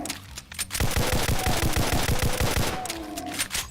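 Rapid, loud bursts of gunfire from a Demon's Bane shotgun in a first-person shooter, about a dozen evenly spaced blasts rattling off in quick succession over a steady game soundscape, with no voice.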